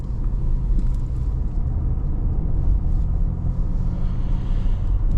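Interior of a 2026 VW Jetta Sport rounding a corner on cold tires, with a steady low engine and road rumble that holds evenly throughout and no talking.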